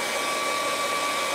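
A hair dryer runs steadily at close range, giving a loud, even whooshing roar with a constant high whine and no speech.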